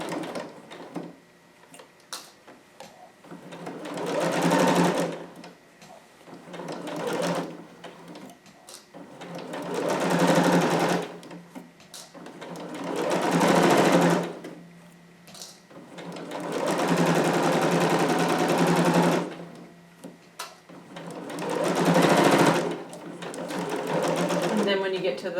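A sewing machine stitches a 5/8 inch seam in fabric for a McCalls 7402 harem jumpsuit, running in several bursts of steady whirring a few seconds long with pauses between, and someone talks during the gaps.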